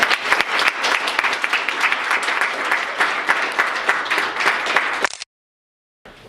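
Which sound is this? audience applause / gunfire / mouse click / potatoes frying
audience applause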